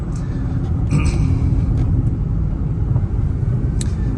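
Steady interior road noise from a 2000 Toyota Corolla on the move: a constant low rumble of tires and engine, close and even, with a few faint higher clicks and squeaks.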